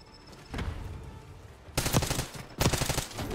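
A light machine gun fires in Black Ops 6 in three loud, rapid bursts separated by short pauses, each a dense rattle of gunfire.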